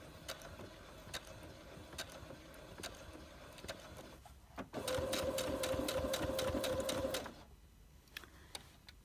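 Sewing machine back stitching across a quilt seam while joining quilt-as-you-go rows, a steady close whirring run of about two and a half seconds amid quieter ticks and handling sounds before and after.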